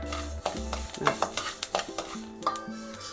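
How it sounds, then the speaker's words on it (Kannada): Fenugreek seeds dry roast in a pan for sambar powder, with a quick series of close crackles and scraping stir strokes in an uneven rhythm. "ಮೆಂತ್ಯ ಹಾಕೊಳ್ಳೋಣ. ಮೆಂತ್ಯ ನೋಡಿ ಎಷ್ಟಾದರೂ ಸಾಕಾಗುತ್ತೆ. ಪಟ ಸೌಂಡ್ ಬರುತ್ತೆ ನೋಡಿ."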